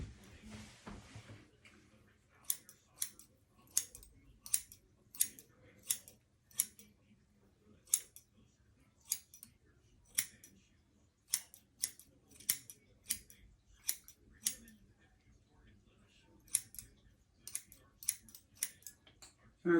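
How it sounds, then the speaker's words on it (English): Scissors trimming the back of a men's hair unit hairpiece, a long series of crisp snips in uneven clusters, close and quiet against a soft background with faint voice. "So now I'm going to go to the back again and start trimming the back."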